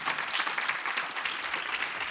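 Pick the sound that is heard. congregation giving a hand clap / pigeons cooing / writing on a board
congregation giving a hand clap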